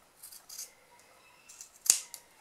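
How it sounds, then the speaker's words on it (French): Scissors snip away excess fabric along a zip on a sewing project, a few soft close cuts followed by one sharper crisp snip, alone in a quiet room. "je m'aligne bien par rapport au zip et je découpe juste ce qui dépasse"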